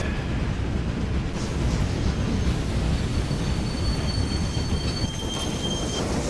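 Trains run on the lines of the railway management game Railway Empire, a steady loud rumble of rolling stock with thin high wheel squeal over it, continuous and with no voices throughout.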